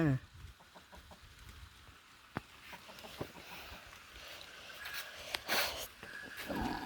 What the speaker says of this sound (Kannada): ಇದು ನಮ್ಮ ಕೋಳಿ